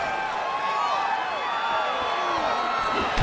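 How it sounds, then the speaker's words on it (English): Arena crowd in EA Sports UFC 3 during a Bruce Lee versus Jake Ellenberger fight, a dense roar of cheering and whooping voices swelling and falling steadily at a moderate distance. "This crowd is on its feet."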